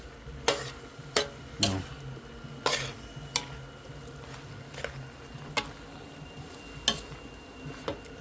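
Mixed vegetables and pork stir-fried in a wok, with a spatula scraping and knocking against the metal in irregular sharp strikes over a soft sizzle, heard close and with no talking.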